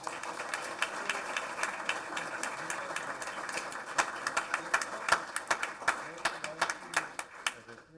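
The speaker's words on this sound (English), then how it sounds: "if we could please join me in giving both of them a big round of applause" Applause at a board meeting: a room of people clapping steadily throughout, the claps sharp and close, building in density toward the end while voices murmur beneath.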